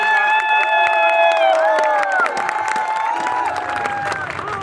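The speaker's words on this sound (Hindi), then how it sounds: "इनका भी जोरदार तालियां" Big crowd at a direct selling forum breaking into loud applause and cheering, with whoops and tonal shouts or horn-like calls over dense clapping, close and energetic throughout.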